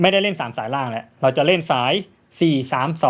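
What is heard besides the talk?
None of the usual background noises is heard.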